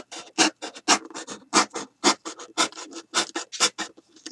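Rhythmic back-and-forth rasping of a blade sawing through a cardboard Capri Sun box, many quick strokes in a steady pattern, close and clear with no talking.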